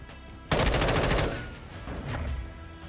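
A sudden burst of rapid automatic gunfire in a video game, loud and close, running for under a second before tailing off, with a fainter second burst following.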